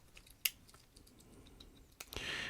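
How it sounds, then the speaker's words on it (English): Small precision scissors from a Maxpedition Double Decker EDC kit give a few quiet, crisp snips and clicks. One sharper snap stands out early, and a brief rustle comes near the end. "These are precision scissors."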